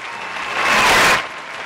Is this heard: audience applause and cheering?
yes